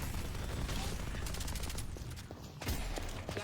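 Rapid bursts of automatic turret fire in a video game battle, dense and continuous throughout, with heavy low rumble and a brief lull before the shooting swells again.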